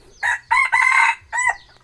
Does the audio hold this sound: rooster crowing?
yes